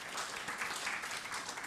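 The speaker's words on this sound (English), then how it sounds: "Please give a big applause to our strong collaboration." Steady applause from a forum audience in a conference room, a dense even patter of many hands clapping throughout, fairly faint and continuous.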